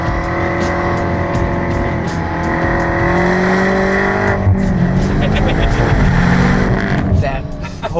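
A 900-horsepower CarBahn-tuned Stage 3 car driven fast, its engine droning loud and steady with a rising pitch as it pulls hard, with a voice faintly underneath.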